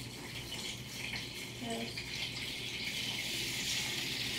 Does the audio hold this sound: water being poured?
yes